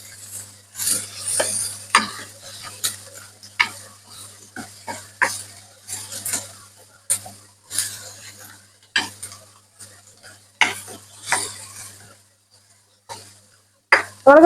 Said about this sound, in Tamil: வெங்காயம் வந்து நல்ல ஒரு கோல்டு கலருக்கு வதங்கணும் அப்ப இன்னும் கொஞ்ச நேரம் நாங்கள் இதை வதக்கி கொள்ளணும்